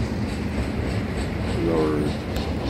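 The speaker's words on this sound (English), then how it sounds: "A decent sized train, thus fielding 3 units." A Norfolk Southern container and piggyback freight train led by three locomotives rumbles past steadily at close range, with a faint squeal and a brief word spoken.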